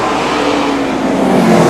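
A short-track race car roars past at speed during an Oktoberfest super short track race, its engine loud and close, swelling as it passes with no talk over it.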